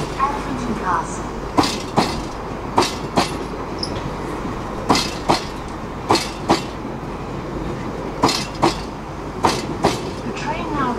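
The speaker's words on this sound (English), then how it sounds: "The train now approaching platform 1 is the London Underground service to Elephant and Castle" A London Underground Bakerloo line train pulls into a platform with a loud, rhythmic clickety-clack of wheels over rail joints, sharp regular clacks repeating against a steady rumble.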